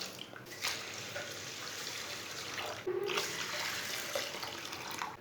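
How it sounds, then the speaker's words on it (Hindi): Water from a steel glass splashes and pours steadily into a pot of lentils, a continuous watery rush with a few louder surges, close by and without speech. "दाल डाल लेंगे, 3 गिलास पानी डाल लेंगे"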